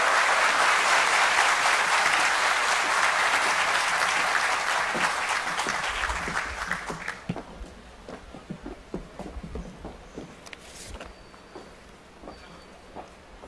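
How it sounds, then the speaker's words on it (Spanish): Audience at an official ceremony in San Juan, Dominican Republic, applauding to welcome a speaker, a dense, loud wash of clapping that thins after several seconds into scattered individual claps and footsteps before dying away. "Recibámoslo con un fuerte aplauso."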